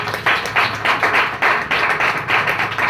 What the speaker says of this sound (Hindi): बेटी के लिए जोरदार ताली हो जाए